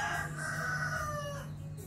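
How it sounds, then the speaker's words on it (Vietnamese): A rooster crows in a rural Vietnamese village, one long drawn-out call that rises and falls, heard alone over a low steady hum. "Anh em có thể xem video và nghe được những tiếng gà gáy, nó rất là mộc mạc nha."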